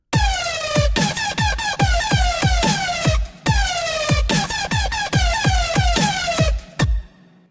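A synth lead, made in Reason, plays a bright, buzzy staccato melody with pitch-dropping notes and rhythmic stabs, loud and alone, briefly pausing midway before a final note rings out and fades.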